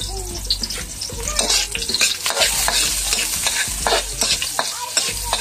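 Onion and garlic sauté in hot oil as seafood adobo begins: a steady, close sizzle runs throughout, broken by repeated clinks and scrapes of a utensil stirring the pan, with no voices.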